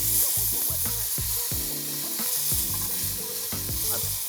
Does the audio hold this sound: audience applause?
no